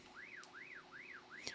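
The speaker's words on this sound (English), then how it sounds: "Press and hold and you get the alarm." A Radioddity Baofeng UV-5G Pro two-way radio emits its alarm, a rising and falling siren wail repeating four times in a steady rhythm, clear and close with no talk.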